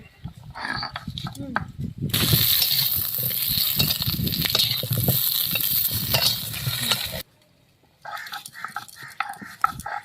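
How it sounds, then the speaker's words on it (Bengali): Potato pieces frying in oil in a pan for a duck and potato curry, a steady loud sizzle that stops abruptly, then lighter clinks and kitchen handling noises follow. "এমনি আলুটা লাল লাল করে ভেজে নেব"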